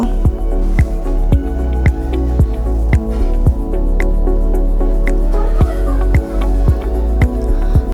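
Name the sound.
stirring fried rice with vegetables in a pan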